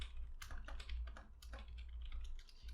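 Code is typed on a computer keyboard in a quick, steady run of close, soft key clicks over a low hum, with no voices.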